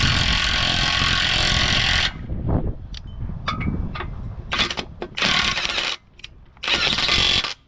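A SeeSii 1/2-inch cordless impact wrench loud and close, removing rusty main bearing cap bolts in bursts of hammering rattle separated by short pauses and clanks of the work.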